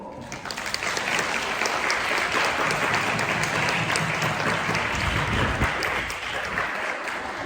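A crowd of college students claps continuously at a brunch event, loud, sustained applause for several seconds.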